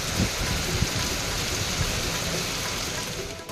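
Steady rain falls in a street scene where children play in it, a dense, continuous hiss of water with faint splashes underneath.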